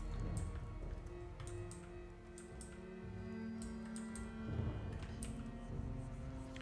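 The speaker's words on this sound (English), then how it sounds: "So you're probably hearing my mechanical keyboard." Mechanical keyboard keys clatter in quick irregular bursts of light clicks, faint and close under a steady low hum, during a digital painting session.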